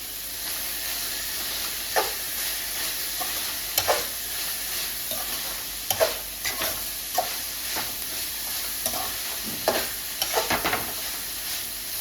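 Ginger garlic paste, about two tablespoons, sizzles and fries in a pan while a spoon stirs it in scattered scraping strokes over a steady hiss, the sizzle loud and continuous throughout.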